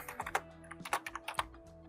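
Code is typed on a computer keyboard in a school programming lesson. About a dozen quick, close keystrokes come in short bursts over a faint low hum, with no talking.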